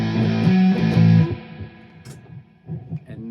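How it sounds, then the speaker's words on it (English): An electric guitar through a distortion pedal sustains a few gritty chords, then fades into quieter, scattered notes. "when I get to that last note, I use my distortion pedal as a signal"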